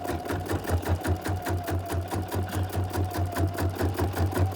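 An embroidery machine stitching around the outside of a hoop while making a greeting card, its needle hammering in a fast, even mechanical rhythm over a steady motor hum, close and constant.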